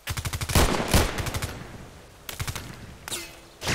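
Gunfire in the shooter Contract Wars: loud, fast bursts of shots from close by, broken by short pauses, with a final sharp report near the end.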